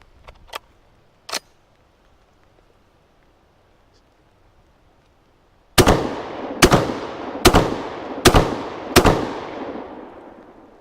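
A Rock Island Armory VR80 semi-auto shotgun fires outdoors. Two sharp, moderately loud bangs come first, then after a quiet pause five loud, evenly spaced shots ring out in quick succession, each trailing off with a short echo.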